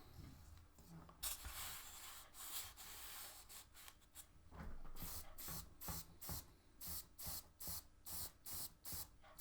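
Airbrush or spray can coating the running gear of a Dragon 1/35 M4A3 Sherman tank model, faint and close, first as a longer hiss and then as a string of short, evenly spaced bursts, with no voices.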